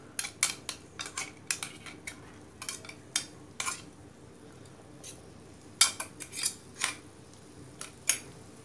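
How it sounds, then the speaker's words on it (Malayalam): Squid and grated coconut stir fry being turned in a pan: a string of sharp, irregular clinks and scrapes from a spatula on metal, close and fairly quiet over a faint low background. "നന്നായിട്ട് ഇളക്കി കൊടുക്കാം."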